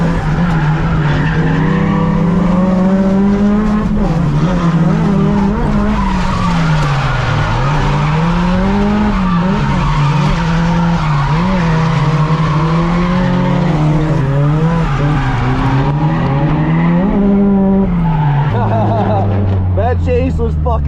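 A car drifting with the handbrake around a racetrack in Japan, its engine droning loud and continuous with wavering pitch as revs rise and fall, tires squealing throughout, dropping to a lower tone near the end.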